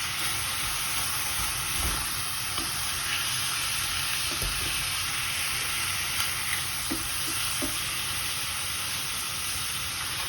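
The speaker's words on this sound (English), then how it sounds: "we need to keep stirring our mince until it gets a nice brown color" Minced meat fries loudly in a pan for spaghetti with mince, a constant dense sizzle and hiss broken by occasional scrapes and knocks of stirring, with no talking.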